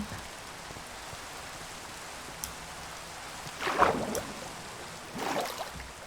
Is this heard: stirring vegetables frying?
no